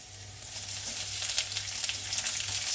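Chopped onion fries in coconut oil with a steady, moderately loud sizzle and soft crackle, close by, with no voices.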